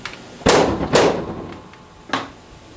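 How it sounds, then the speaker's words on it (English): Gunshot effect from an American Fotoplayer theatre instrument: two sharp cracks in quick succession, then a third after a short pause, each a bright snap with a brief ringing tail. "And then a gunshot."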